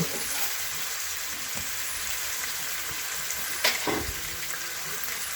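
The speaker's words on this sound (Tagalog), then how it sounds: "At ilagay ko na po yung karneng baboy." Chopped pork meat hisses and sizzles in a hot pan for kangkong bopis, a steady frying crackle with a brief clatter of stirring near the middle.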